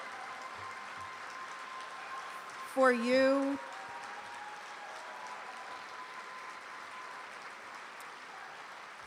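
Audience applause for EMS competitors at an awards program, a continuous wash of clapping across the whole stretch, with a voice speaking briefly over it partway through.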